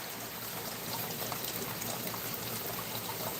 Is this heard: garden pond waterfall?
yes